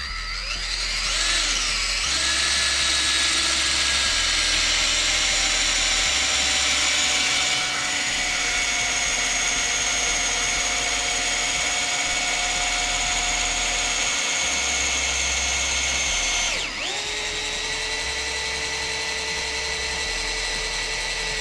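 A power driver sinks a GRK 14-inch log panel screw into timber, a continuous loud whining motor drone with shifting pitch that changes abruptly near the end, no talking.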